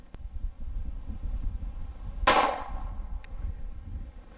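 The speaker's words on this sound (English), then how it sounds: "I'm going to shoot the Lehigh Defense 65 grain XD bullet first." A Glock 42 pistol fires a single Lehigh Defense 65 grain .380 ACP round at a target in an outdoor shooting setup: one sharp, loud crack in the middle, then a quick decay over a steady low background rumble.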